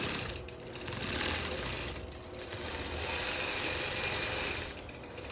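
A longarm quilting machine stitches in the ditch around a quilt with computer guidance, running in a steady, rapid mechanical whir that rises and falls slightly in speed, close and continuous.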